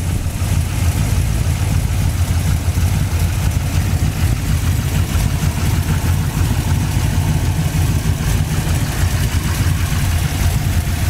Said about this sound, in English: It's powered by a powerful V8 engine, 4-barrel carburetor.